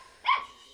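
One short, fairly faint yip from a puppy, a quick single bark standing out over a quiet background.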